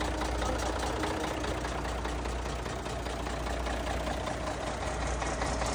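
An engine idles steadily after a breather repair, a continuous close, loud running drone with a slight knocking edge throughout, no talking.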